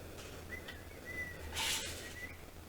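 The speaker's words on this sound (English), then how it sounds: "there just was somebody whistling" A person whistles outdoors at a campground: a faint, thin, sustained tone that wavers on and off for about two seconds over quiet background noise.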